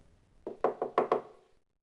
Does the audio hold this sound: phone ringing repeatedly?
no